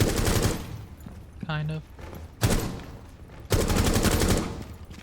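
Bursts of automatic gunfire rattle in Rainbow Six Siege, three loud sustained volleys separated by short gaps, with a voice talking briefly between them.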